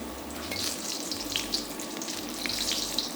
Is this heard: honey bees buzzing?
no